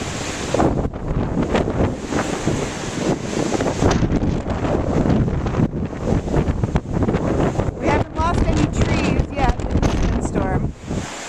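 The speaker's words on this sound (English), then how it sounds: "This is a pretty windy spot" Strong blizzard wind in Anchorage, Alaska roars steadily and loudly, buffeting the microphone with gusty rumbles throughout.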